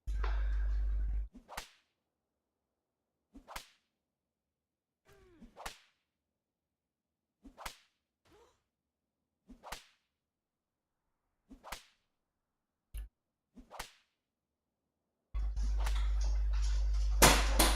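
A worn whip is lashed repeatedly in the online game Entropia Universe, giving about eight crisp cracks spaced one to two seconds apart over near silence, framed by a louder, noisier stretch at the start and end.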